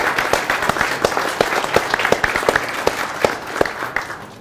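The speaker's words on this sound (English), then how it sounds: "So just give them a round of applause." A crowd at a FountainHead RI gathering claps for its board of directors, a moderately sized audience producing a steady, fairly close round of applause with individual sharp claps standing out throughout.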